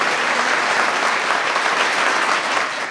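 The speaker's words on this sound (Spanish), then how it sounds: "yo creo que le podemos dar un aplauso grande y levantar todas las manos a nuestra comunidad" A community audience in Rinconada at an eyeglasses handover in Los Boldos breaks into dense, steady applause that stays loud and even for the whole stretch, with no talk on top.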